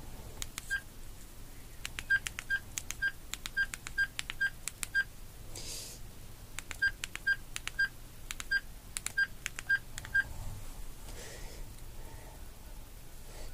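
A Samsung Galaxy S4 in an S-View cover receiving an incoming call gives off two bursts of rapid, evenly spaced electronic beeps, clear and close over a faint background hiss.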